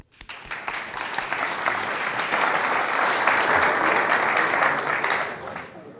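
An audience at a Kubernetes and AI talk breaks into loud, sustained applause that swells and then fades over several seconds.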